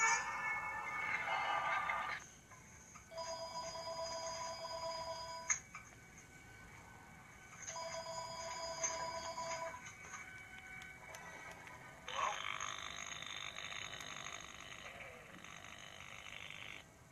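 A telephone ring played from a recording, faint and tinny, sounding in three separate bursts of electronic trilling with quiet gaps between them.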